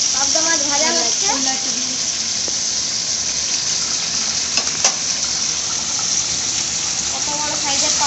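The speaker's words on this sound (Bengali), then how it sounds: "পাবদা মাছ ভাজা হচ্ছে" Pabda fish fry in a pan with a steady, bubbling sizzle that continues throughout. A voice talks over it at the start and end, with a few faint clicks partway through.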